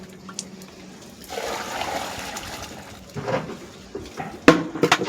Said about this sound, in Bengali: এই মিশ্রণটির উপর আরও 10 লিটার জল দেওয়া হলো।